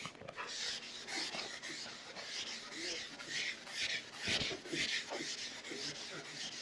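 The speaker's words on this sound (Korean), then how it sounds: "이 RMC 패드를 적극적으로 사용해서 거스름이를 죽이고 마무리를 하는 거죠." An abrasive-free RMC pad is rubbed briskly over a bare wood surface to knock down raised grain. The scrubbing swishes sound close and steady, continuous and fairly loud, with a few brief catches and knocks near the end.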